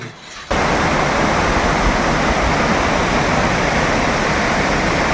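After a brief quiet start, the rushing water of a forest stream starts up suddenly. It keeps a loud, steady broadband roar with no speech.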